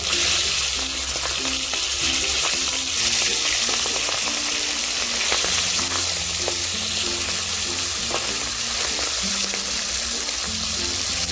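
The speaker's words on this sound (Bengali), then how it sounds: "আমি উল্টে নিচ্ছি অপর পিঠ ভেজে নেওয়ার জন্য।" Flipped pangas fish pieces fry on the other side in hot oil, a loud, steady sizzle with popping crackles running throughout, over quiet background music.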